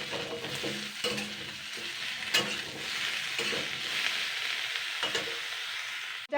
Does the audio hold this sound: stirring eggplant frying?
yes